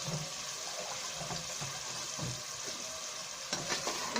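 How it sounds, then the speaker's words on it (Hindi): Two glasses of water go into a pan of sizzling fried meat salan with black pepper, bringing splashing and hissing over the steady frying, close and moderately loud, with stirring noises and no talking. "अब इसमें हम 2 गिलास पानी शामिल करेंगे।"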